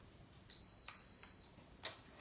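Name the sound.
feeding tube pump beeping loudly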